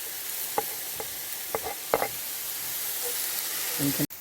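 Onions frying in a pan for stuffed zucchini: a steady soft sizzle runs throughout, broken by a few light stirring scrapes and knocks, close and fairly quiet.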